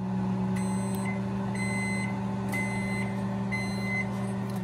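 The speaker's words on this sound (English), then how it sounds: "Pop my cup into the microwave," A microwave oven heating a soup mug hums steadily and faintly, a constant low drone with a few soft high clicks, no voices.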